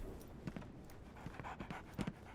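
A big dog in Sherlock Holmes: The Awakened pants close by, quick rhythmic breaths with soft whimpering, faint and steady without talk.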